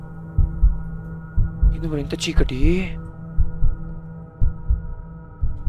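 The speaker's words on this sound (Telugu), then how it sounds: "Heart beat sound." Heartbeat sound effect in the horror video game The Lost Fear, a steady low double thump repeating throughout, with someone speaking over it midway.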